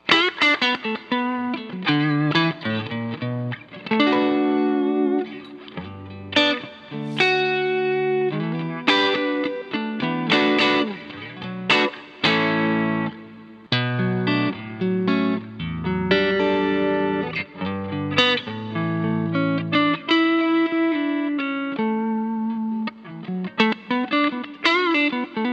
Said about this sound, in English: A little bit of reverb.